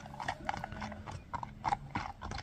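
A brown horse gallops close by, its hooves clip-clopping in quick, uneven bursts of sharp beats.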